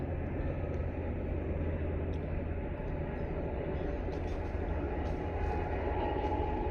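A train passing near a village, a steady broad rumble and roar holding at a constant level throughout, fairly close with no voices.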